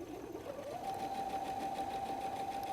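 A sewing machine runs steadily while stitching a seam at a 2.5 stitch length, its motor giving a fast even whir that rises slightly in pitch and then holds, fairly quiet and alone.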